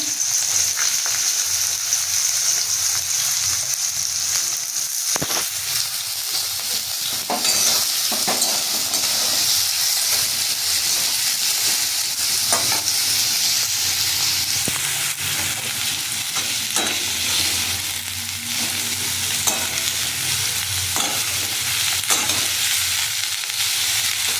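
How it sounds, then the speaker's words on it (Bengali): Carrots and other vegetables fry in hot oil with cumin seeds in a pan, giving a steady, close sizzle and hiss throughout, with occasional stirring scrapes and no talking. "জিরে ফোড়ন দেব তারপর একে একে সবজিগুলোকে ভাজব প্রথমে গাজর দিলাম"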